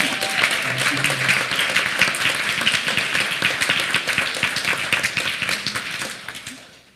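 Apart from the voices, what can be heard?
audience applause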